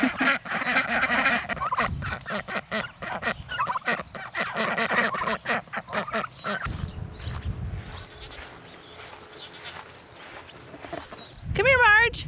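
Farm fowl, ducks or geese, calling in rapid bursts of honking and gobbling close by, dense at first and then sparser, with a person talking near the end.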